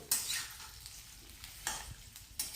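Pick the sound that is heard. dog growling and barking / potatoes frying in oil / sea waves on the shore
potatoes frying in oil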